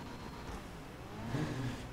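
A 300R car in a racing video game accelerates, a fairly quiet engine whir that rises slightly toward the end, with no talk.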